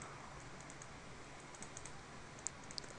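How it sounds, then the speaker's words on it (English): Faint, rapid keyboard typing with soft scattered clicks and a couple of sharper key taps near the end, no voices. "I don't know if you can hear me, like, mashing my keyboard."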